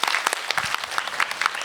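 A symposium audience applauds itself, brisk, close clapping from a modest crowd in a hall, lasting under two seconds.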